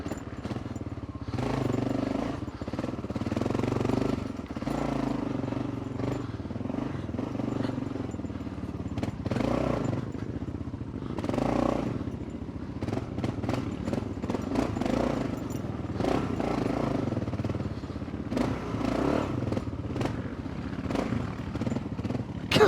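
A Gen 3 Kawasaki KLR 650 motorcycle rides a rough off-road trail, its engine rising and falling with throttle changes under clatter and scrapes from rocks and terrain.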